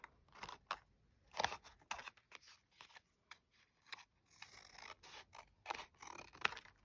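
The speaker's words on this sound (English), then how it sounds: "I just trimmed around the card like this." Scissors trimming around an old Christmas card, a series of close, quiet snips and papery scrapes in an irregular rhythm.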